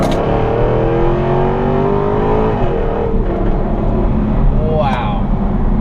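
A powerful car engine revs loud and close with a racetrack-like roar, its pitch climbing then dropping sharply and climbing again; a voice talks over parts of it.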